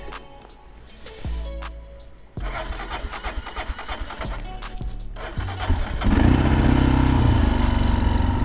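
A motorcycle engine in snowy winter conditions cranks with a couple of short attempts, catches, then settles into a loud, rough, steady idle up close.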